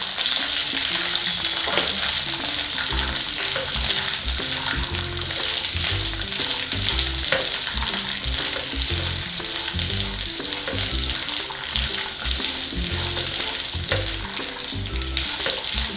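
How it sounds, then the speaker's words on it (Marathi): Seeds and green chillies fry in a pan for Gujarati undhiyu, giving a steady, close sizzle that runs the whole time. Occasional soft stirring taps sit under it and no one speaks. "आपण कवठ्याचे दाणे ते तिन्ही दाणे आपण हे भाजून घेतो आहे त्यातच मी मिरच्याही घातलेल्या आहेत"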